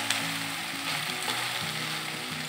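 Masala frying in a pan during home cooking of chicken kosha, a steady close sizzle running throughout with faint stirring clinks, with no talking.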